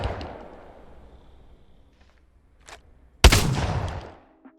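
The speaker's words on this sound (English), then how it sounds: "If you shoot the Eva 8 shotgun, the bullet spread will look like this" An Eva 8 shotgun fires in Apex Legends: a single sharp, loud blast cuts in after a decaying earlier shot and brief near-silence, then rings out and fades, followed by a faint mechanical click.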